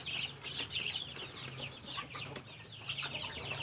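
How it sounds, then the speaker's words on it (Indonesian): Free-range village chickens kept in an open colony system cluck in repeated bursts, close and fairly loud, over a constant low outdoor hum. "Itu ayam-ayamnya ya, sistem koloni umbaran"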